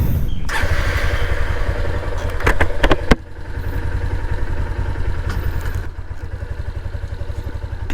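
A motorcycle engine runs near a ticket counter at a fisheries project site, with a loud steady idle, a burst of revving and clatter around the middle, then a lower, even idle.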